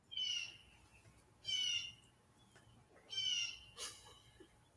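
Birds let out three sharp, squawking calls a second or so apart, with a fainter fourth cry afterward, over quiet outdoor background.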